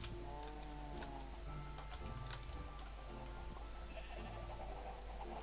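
Sheep bleating in the Minecraft video game, a few short game bleats over a steady background of ticking and farm-animal sounds, with no talk.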